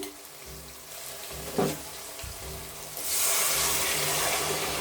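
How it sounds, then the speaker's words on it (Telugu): Water is poured into a pot to cook biryani rice; after a faint clink and some low kitchen noise, a steady gushing pour starts midway and keeps going. "బిర్యానీ రైస్ రెండు లోటాలు నీరు పోసుకుందాం"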